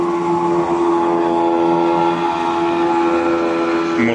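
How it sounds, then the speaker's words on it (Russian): An old boat motor drones steadily and loudly on a mountain river trip, a continuous tonal hum with strong harmonics running without a break. "Мотор старый еще."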